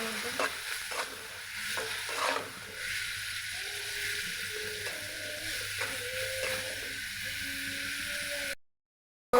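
Onion with salt and turmeric fries in oil for a water taro dish, giving a steady close-up sizzle. Occasional scraping stirs of a spatula break through before the sound cuts to silence near the end.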